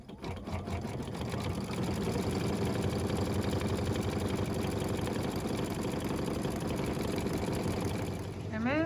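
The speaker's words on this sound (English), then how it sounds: "Change the bobbin thread to matching matte thread and embroider the eyelet stitches" An embroidery machine hums steadily, stitching eyelets in matte thread; its rapid, even needle chatter carries on without a break.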